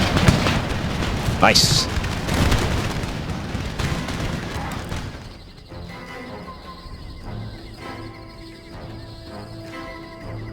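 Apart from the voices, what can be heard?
cannon artillery fire in Empire: Total War video game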